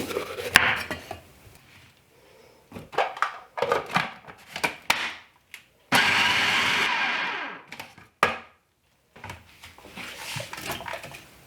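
A knife rough-chopping red pepper on a board: irregular bursts of sharp taps and scraping knocks, close and moderately loud, separated by short pauses, with one longer stretch of continuous scraping noise.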